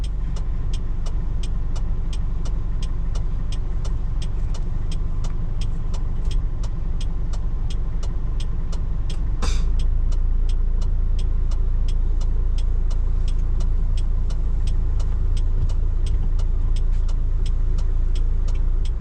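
A 1995 Isuzu Elf diesel truck drives along with its engine running, a loud, steady low rumble heard from inside the cab. A regular light ticking repeats over it, and no one speaks.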